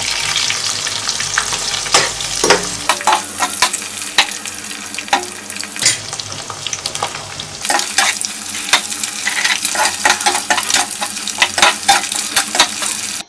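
Eggs frying in oil in a pan as part of making egg noodles, with a steady close sizzle punctuated by repeated sharp scrapes and taps of a utensil stirring against the pan.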